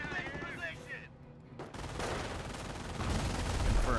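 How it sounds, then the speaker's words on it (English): An artillery strike in the PC strategy game Company of Heroes brings loud bursts of gunfire and heavy booming impacts that build toward the end, following a short stretch of someone talking. "Artillery strike!"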